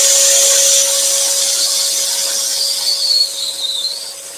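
Scroll saw cutting wood for a lantern while a dust extractor runs, a loud continuous hissing whine with a steady hum underneath and a faint wavering pitch as the blade cuts.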